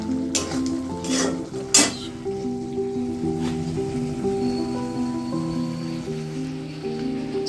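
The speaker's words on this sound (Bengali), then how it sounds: "এই যে কাঁচা কলার তরকারিটা আমি এই যে কষাতে দিয়েছি" Raw banana curry sautéing in a pan, a soft continuous sizzle with a few sharp stirring scrapes near the start and a steady hum underneath.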